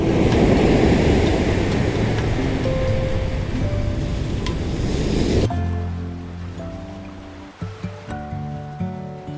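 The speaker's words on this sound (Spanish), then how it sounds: "Terminar el día frente al mar," Sea waves wash onto the shore at Nha Trang in a broad, loud surf roar that fades after a few seconds, giving way to quieter ambience with faint tonal sounds.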